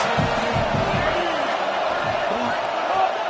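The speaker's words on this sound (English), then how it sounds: "Big 3rd down as the crowd gets behind this defense." A stadium crowd at a college football game between Alabama and Texas A&M roars steadily behind the defense on a big third down, a dense, sustained wall of cheering noise.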